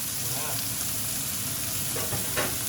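Scallops sear in a hot pan with a steady, close sizzle and crackle throughout, punctuated by a few brief sharper spits, while someone talks quietly over the frying.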